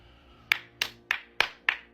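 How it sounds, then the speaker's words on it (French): Applause in an office, heard as six slow, evenly spaced hand claps from a single clapper, sharp and close with quiet gaps between them. "Applaudissements dans les bureaux."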